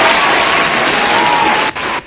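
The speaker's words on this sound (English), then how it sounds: "Let's clap again for our chairman." A graduation ceremony audience breaks into loud, dense clapping for the chairman, sustained and close, dropping off briefly near the end.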